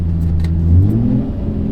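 Nissan 350Z with modifications revving hard while driving, a loud, close, steady engine roar with rising harmonic tones over about two seconds, no talk.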